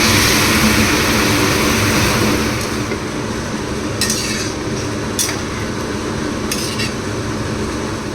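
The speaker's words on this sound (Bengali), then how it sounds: "এবার আমি গরম জল দিয়ে দেবো।" Hot water poured into a pan of spiced fried potatoes, giving a loud, steady rushing hiss at first that eases after a few seconds, followed by a few light clinks of a utensil against the pan.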